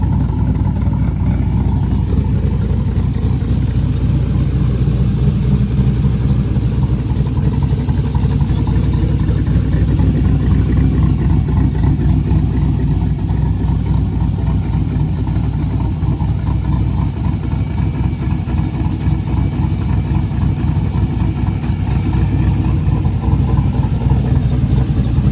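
A turbo LS-swapped Dodge Dakota with a full exhaust holds a steady 2,300 RPM, heard from inside the cab as a loud, continuous low droning rumble with no change in pitch.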